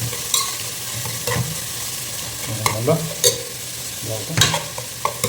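Broken dried red chillies fry in a pan with a steady, close sizzle, punctuated by scraping stirs and a few sharp clatters of the spoon.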